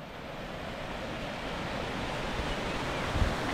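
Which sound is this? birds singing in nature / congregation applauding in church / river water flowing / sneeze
river water flowing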